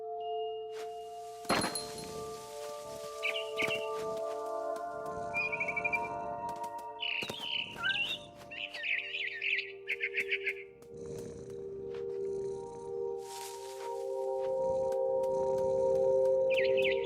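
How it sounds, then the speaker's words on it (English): In the game What Remains of Edith Finch, a barn swallow gives several chirpy, twittering calls in short clusters, heard over sustained musical tones and soft thumps. "Then I heard chirping outside my window. It was a barn swallow going back to her nest."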